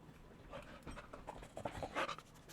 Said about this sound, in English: The dog is attacking me viciously.